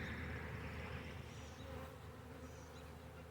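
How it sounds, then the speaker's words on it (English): A swarm of honey bees buzzing steadily over hive frames packed with honey during a swarm install, a dense, continuous, close-up drone without any voices. "Good-natured bees."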